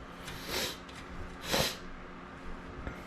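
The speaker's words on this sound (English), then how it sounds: "Sorry about the sniffles right now." A man with a cold sniffles, two quick nasal snorts close up, about a second apart, followed by a fainter third sniff, quiet and with no talking over them.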